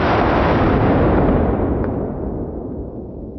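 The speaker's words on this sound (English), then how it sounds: "Let's go ahead and try our first 12 gauge slug. This is called the Tornado, and it hits pretty hard." A 12 gauge Tornado shotgun slug is fired outdoors into a bulletproof vest, one loud booming blast whose rumbling echo decays over several seconds.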